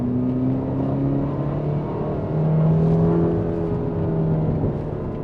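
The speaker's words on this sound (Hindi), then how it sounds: "पोर्टोफिनो का जो एग्जॉस्ट नोट है, जो साउंड है, वो बहुत ही वाइल्ड, अग्रेसिव और लाउड है" Ferrari Portofino M accelerating, its engine droning in a steady rising tone with a low rumble, continuous and moderately loud throughout, heard from inside the car.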